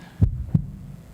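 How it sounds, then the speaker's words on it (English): Two deep, close heartbeat thumps land in quick succession as a lub-dub pulse, booming and isolated, with no voices. "And another heartbeat starts."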